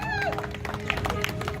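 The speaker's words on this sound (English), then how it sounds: "By a round of applause." A crowd at a live concert in Wichita, Kansas claps and cheers, with a busy patter of handclaps under raised voices and a few sharper claps standing out near the end.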